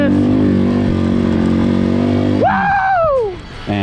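A Janus Griffin motorcycle engine roars loud and steady at a hill climb race, then its pitch sweeps up and falls away as it revs past, with crowd noise and cheering underneath.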